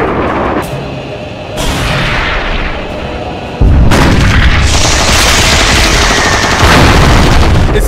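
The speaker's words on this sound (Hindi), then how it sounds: "किसी एक को ही टारगेट करके गोलियां चलाएं" Battle gunfire from a Hindi-dubbed Hollywood action movie: dense, continuous bursts of shots and heavy booms that swell louder midway and keep roaring without pause.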